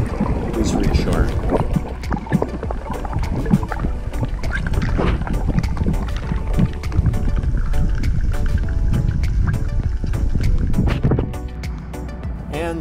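A small dinghy motoring around an anchorage off Isla Coronado near Loreto, its outboard engine droning steadily and loudly close by for the whole stretch, with water slapping against the hull and wind buffeting the microphone.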